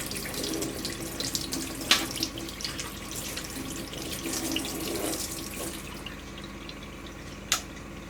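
Wood pigeon meat being washed under a running kitchen tap, a steady splashing water stream with small drips and a couple of clinks, fading toward the end.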